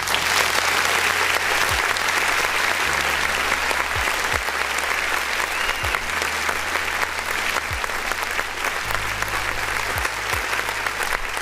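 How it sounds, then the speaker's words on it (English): A crowd at a live music review show applauds, continuous dense clapping held steady throughout, with a low droning background tone underneath. "I want to give you a round of applause real quick"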